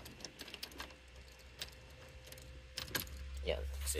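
Keys jangle with light metallic clinks as a Toyota's ignition is turned during a stereo head unit installation, over a steady low hum that swells near the end.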